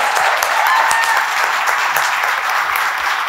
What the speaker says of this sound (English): let's round of applause for our panelists.